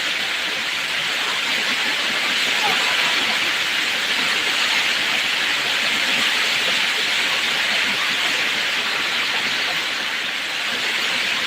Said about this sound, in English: Maybe having a typhoon here.